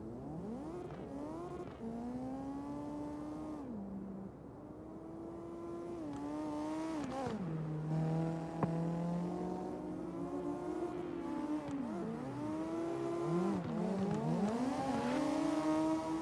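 Race cars in a racing video game whine past one another with engines rising and falling in pitch as they shift and overtake, several loud overlapping motors close by throughout.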